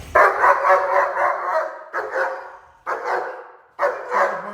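A 12-month-old German Shepherd barks on command: four loud, close, deep barks in quick succession, each followed by a short pause.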